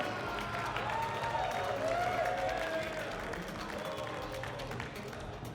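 Applause rolls through the crowd at a demoscene award show for a winning group, a quiet, sustained patter of many hands, distant and even, with faint voices mixed in.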